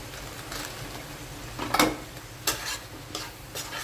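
Ground turmeric, coriander, cumin and Kashmiri chilli powder with salt stirred in a frying pan for a Bengali prawn malaikari, giving a few scraping strokes over a soft sizzle, close and fairly quiet.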